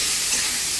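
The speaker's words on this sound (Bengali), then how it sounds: "আমগুলোকেও ভেজে নেবো" Mango pieces sizzling in hot oil with turmeric and green chilli for dal, a brief steady hiss with no talk.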